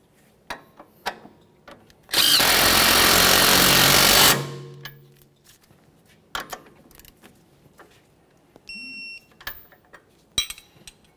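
A power tool, likely an impact wrench, tightens a strut mounting bolt on a 1994-1997 Honda Accord during front strut boot replacement: one loud sustained burst of about two seconds, followed by quieter clicks and workshop handling noises.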